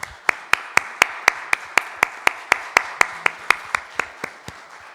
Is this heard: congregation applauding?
yes